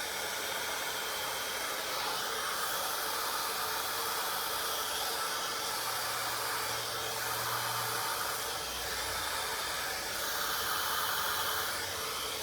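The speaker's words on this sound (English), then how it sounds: "just make sure it's not too hot, because some of our blow dryers can get really warm." Blow dryer fitted with a diffuser drying tight curly hair, a steady airy whoosh with hiss that runs unbroken the whole time, fairly close, with slight swells as it moves.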